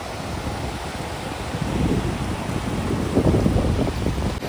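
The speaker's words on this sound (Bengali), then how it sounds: "এই হলো বকখালির সমুদ্র সৈকত" Surf and wind on the sea beach at Bakkhali, a steady broadband wash of waves with gusty wind noise, growing slightly louder toward the end, with no voices.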